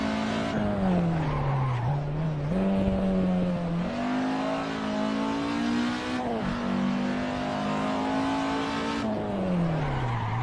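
A slippery, hard-to-handle car squeals its tyres loudly while cornering and skidding. The engine drone rises and falls through repeated slides, close and continuous.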